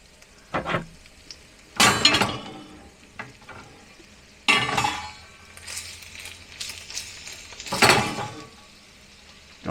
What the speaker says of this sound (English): You can hear it. It's already cooking.